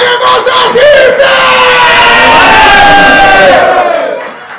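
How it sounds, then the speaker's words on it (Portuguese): A large crowd at a Brazilian rap battle final roars and cheers loudly, with yells and whoops rising together in a sustained burst before fading slightly at the end. "Uma salva de palmas aí, mano, pra vocês"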